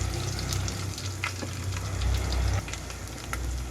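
Continuous crackling sizzle of onions and green chillies frying in hot tempering oil in a pan, with occasional sharper pops and a low steady hum beneath.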